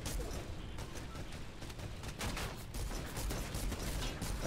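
A large laser weapon fires in the video game Fortnite, letting off rapid, loud bursts of shots in an uneven rhythm over a dense background of game noise.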